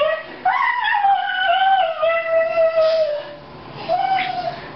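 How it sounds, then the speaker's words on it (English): A mother dog and her puppies bark and howl at night, giving drawn-out wavering howls and yips that overlap close to the microphone, fading briefly before one more howl rises. "they all start barking, starting with the mother,"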